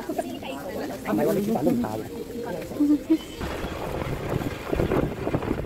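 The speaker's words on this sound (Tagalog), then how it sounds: "Ang lakas ng hangin." Strong wind buffeting the microphone with low rushing gusts, mixed with boat and water noise while people talk over it.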